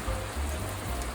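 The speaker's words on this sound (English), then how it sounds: "we thought the rain was going to be earlier, but it's now here" Steady rain falling over a canal-side spot in France, a continuous even hiss with a low rumble underneath and no voices.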